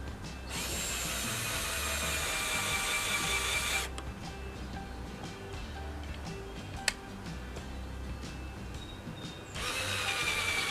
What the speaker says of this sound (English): We'll go ahead and drill some pilot holes for the screws.